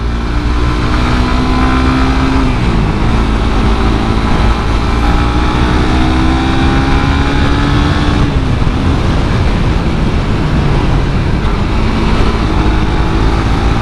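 A 2017 Suzuki GSX R150 motorcycle being ridden, its engine droning loudly and continuously with rising and falling pitch as it accelerates and shifts gears, accompanied by steady wind rush.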